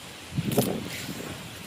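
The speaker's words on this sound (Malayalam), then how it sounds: "ഇപ്പോൾ നല്ല കാറ്റ്, ഇപ്പോൾ മഴ വരുന്ന പോലെ ഉണ്ട്." Wind sweeps across an open paddy field ahead of rain, a soft, steady rustling hiss with a brief stronger gust early on, fairly faint throughout.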